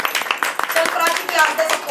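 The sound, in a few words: applause, clapping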